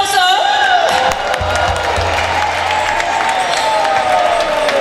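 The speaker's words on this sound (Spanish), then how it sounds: "Un fuerte aplauso." A live show audience on Curaçao breaks into sustained clapping and cheering, a loud crowd wash running throughout beneath music and a voice.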